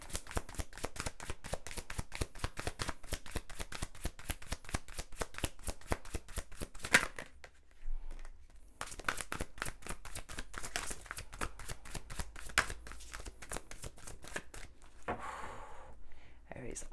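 Tarot cards being shuffled for an Aries reading, a dense run of quick riffling snaps that stops briefly around the midpoint and then resumes in steady bursts, close and clear.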